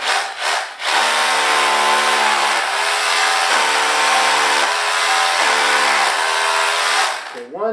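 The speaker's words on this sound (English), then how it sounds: "And we're gonna drill our holes." A power drill whines loudly and steadily up close, with a few brief dips in pitch as it bores, then stops near the end.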